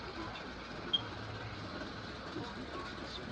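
A Bachmann HO scale Family Lines SCL BQ23-7 model locomotive runs with an old original chassis, giving a steady faint mechanical whir and hum throughout, with one brief small click near the start and no voices.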